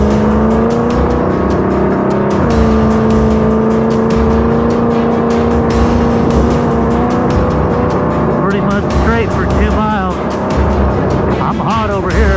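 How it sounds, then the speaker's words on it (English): A car engine drones loudly while driving at speed, with sharp popping backfire bursts breaking through the steady roar and revving; voices talk over the engine noise. "you hear that backfire?"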